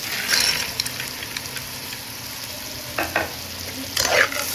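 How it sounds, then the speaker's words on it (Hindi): Green peas are added to a pot and stirred while cooking as a base for soup. There is a soft frying sizzle with scattered spoon scrapes and louder stirring bursts near the start and end. "अभी हम इसमें मटर डालेंगे जब तक ये पक ना जाए, उसको कवर करते रहें।"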